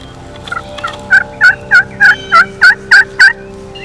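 A wild turkey gobbles in a rapid run of about eight warbling calls, fairly close and clear over a quiet background, in the Kansas wild.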